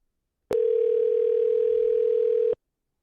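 A telephone dial tone sounds as a call is placed, a single steady electronic tone holding loud and unbroken for about two seconds before cutting off abruptly.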